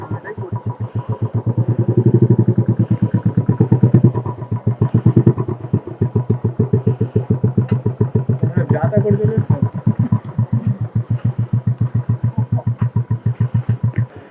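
Motorcycles are lined up for a photo shoot during an offroad jungle ride in Purulia, with a nearby engine idling in a fast, steady thumping beat that swells briefly and then evens out.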